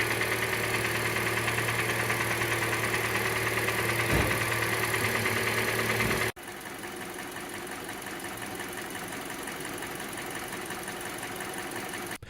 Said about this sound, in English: Number 1 is the engine ticking noise.